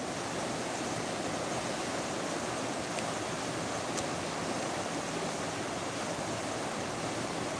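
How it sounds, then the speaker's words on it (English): Loud river water rushes continuously at a riverfront park, a dense, even broadband roar with no pauses, close and steady throughout with no voices. "Can you hear the water? How loud it is?"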